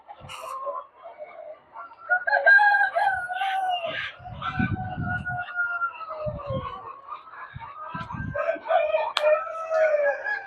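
Chickens and a rooster on a poultry farm, with a rooster crowing and hens clucking and squawking close by, irregular calls over about ten seconds.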